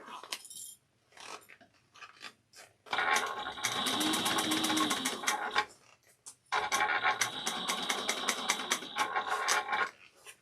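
A sewing machine stitches a small bowler bag in a quiet room, with two long runs of rapid, even mechanical clatter that start and stop, plus a few short bursts and handling clicks between them and no speech.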